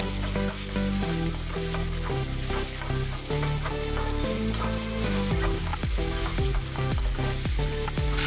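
Ginger garlic paste fries in a pan of hot oil with a bay leaf while a spoon stirs it, giving a steady broadband sizzle with scraping strokes and light clinks, close and continuous with no talking.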